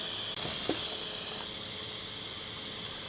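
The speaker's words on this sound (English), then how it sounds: "With the fans, the steam is definitely going out." Steady hiss of steam escaping while cooking inside a car with fans running, a continuous broad rush with a couple of faint soft knocks early on.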